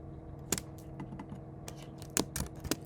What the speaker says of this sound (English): See if I can type now.